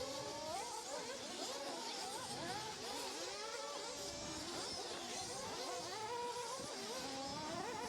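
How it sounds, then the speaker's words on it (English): Electric-buzzing RC race cars whine through the pit lane at a round of an RC Grand Prix in Austria, several high-pitched motors overlapping in a dense, continuous drone. "So the cars coming into the pit lane."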